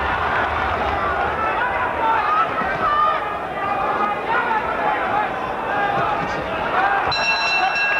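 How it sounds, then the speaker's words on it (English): A boxing crowd at a 1972 title fight roars steadily in appreciation, a dense, continuous wash of voices throughout with a commentator talking over it. "Foster can hear this crowd roaring their appreciation of the way Finnegan went after him with the left hand"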